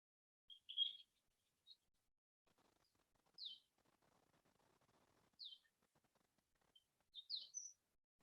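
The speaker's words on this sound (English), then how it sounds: "Do you hear the birds in the distance?" Birds chirp in short, high, scattered bursts against quiet outdoor air, some closer and some far off, with a faint soft rustle between calls.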